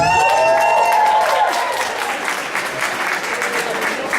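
A crowd at a masquerade event applauds and cheers loudly and continuously, a dense wash of clapping with whoops rising over it throughout.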